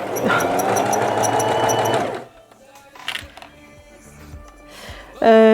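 A domestic sewing machine runs loudly and steadily for about two seconds, stitching fabric for a laptop bag. It stops, and a few faint clicks and handling noises follow before the motor starts up again briefly.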